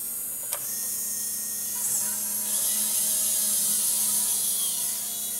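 Firgelli L16 linear actuators run in a speed test, giving a faint high-pitched motor whine that rises and shifts in tone as the rods travel, with a small click at the start.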